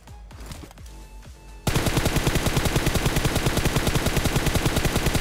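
Gunfire in the PUBG Mobile battle royale game starts with a few scattered distant shots, then bursts into loud, rapid automatic fire that hammers on steadily without pause to the end.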